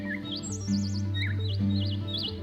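A toucan calls with a series of short, wavering whistled chirps that repeat over a steady low drone, fairly clear and near.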